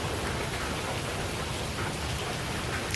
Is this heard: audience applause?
no